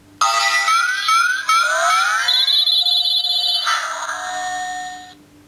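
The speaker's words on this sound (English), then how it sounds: "This was a weird alarm." An electronic alarm from a toy: rising synthetic sweeps, then pulsing warbling tones and a wavering beep, loud and alone before it cuts off.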